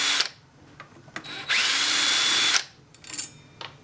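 A power driver with a T27 bit backs out handguard bolts on an AR-15. Short whirring bursts are followed by one longer, loud, steady run, then more brief spins, all close up with no talk.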